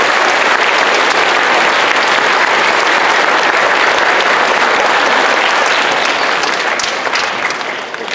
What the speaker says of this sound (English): how about a round of applause for our select chorus?